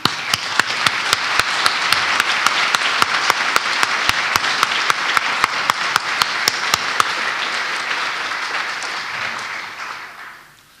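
Audience at the JSConfEU 2009 JavaScript conference applauds a talk, a loud dense burst of clapping with sharp, regular claps cutting through the steady roar before it all fades away near the end.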